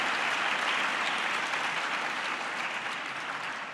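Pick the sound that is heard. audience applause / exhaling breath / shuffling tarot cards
audience applause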